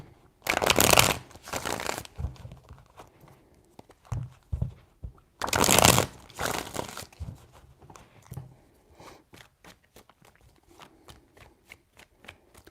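Tarot deck being shuffled by hand, two loud riffling bursts followed by softer taps, slides and card handling, close up with no talking.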